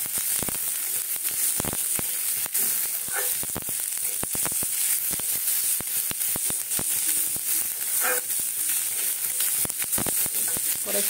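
Unboiled green peas fry in a pan with onions for a potato-paneer samosa filling, giving a continuous close sizzle broken by scattered sharp crackles and the odd stir.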